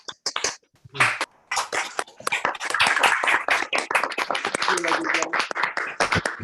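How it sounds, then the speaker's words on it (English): Scattered, uneven hand claps from participants on an online video call, with individual claps popping through irregularly over murmuring voices and some chatter, fairly close and moderately loud. "please unmute and give a big round of applause to Rajeev"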